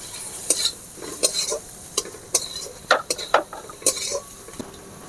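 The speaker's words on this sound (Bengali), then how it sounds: "সমস্ত মশলা আমি ভালো করে ভেজে নেব" Cumin, Kashmiri chilli and turmeric powders frying in oil in a pan while prawns and taro stolons are cooked, with a spoon scraping and stirring in repeated short strokes over a light sizzle, close by and with no talk.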